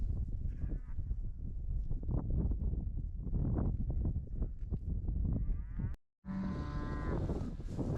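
Cattle moo loudly and repeatedly in a Texas pasture where Mashona calves are being weaned, with overlapping low calls from several animals close by and a brief gap near the end.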